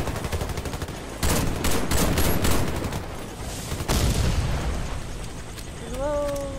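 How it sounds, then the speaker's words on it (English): Enemy gunfire in the shooter Warface crackles in dense, loud volleys and scattered shots, with a heavy burst near the middle and a brief chiming tone at the end. "These people are actually shooting at us."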